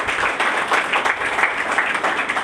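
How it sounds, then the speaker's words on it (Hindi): Church congregation clapping during a live Father's Day sermon, a dense steady wash of applause from many hands with no pauses, filling the room evenly from start to finish. "खुदा पाक रूह के लिए जोरदार तालियां बजाए।"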